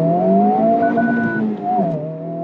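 A Honda Civic Type R accelerates hard in first gear, its engine note climbing loud and close with a wavering, juddering edge from wheel hop before the pitch drops briefly and starts rising again.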